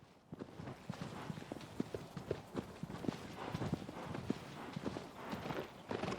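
A horse's hooves clip-clop at a steady walking pace in the video game Shadow of the Colossus, with repeated soft, close thuds over a low ambient bed.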